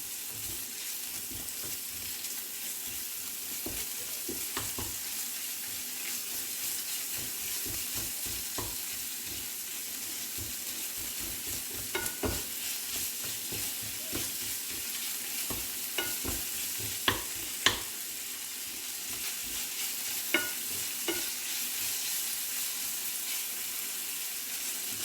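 Minced kefta meat frying with onion in oil in a pan, a steady sizzle under frequent scraping and tapping of a spoon as it is stirred, with a few sharper knocks and no talk.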